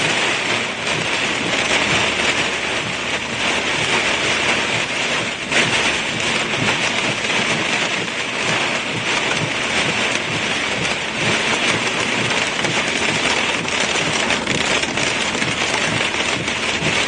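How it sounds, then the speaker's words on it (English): Hail falls during an Ohio storm with tornado warnings, a dense, unbroken pelting roar that holds steady and loud throughout with no voices. "Listen to the hail."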